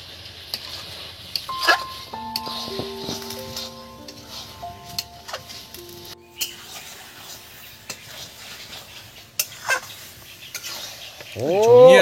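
Mutton curry with potatoes, made with tender young goat meat, stirred in a pot as it cooks, with scraping and soft sizzling throughout and a louder clatter near the end.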